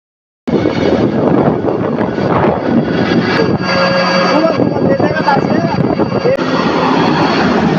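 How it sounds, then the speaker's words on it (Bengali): An airplane near Nohata airport in a rural area, its steady engine roar loud and continuous for nearly the whole stretch after a sudden start, with a broad rushing drone and faint tonal whine. "সেখান থেকে আমরা বিমানটা দেখলাম।"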